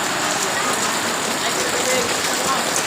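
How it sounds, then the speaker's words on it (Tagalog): Heavy rain pours steadily onto a hut in the countryside, a dense, even hiss of drops striking the roof throughout, close and loud with no pauses. "Ang lakas ng ulan."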